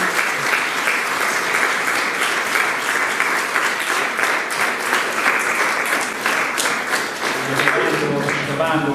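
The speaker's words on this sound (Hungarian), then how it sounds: "Nagy tapsot kérnék neki." An audience applauding at a music school's end-of-year ceremony as a first-place prize winner is announced, sustained, dense clapping that stays loud and even throughout.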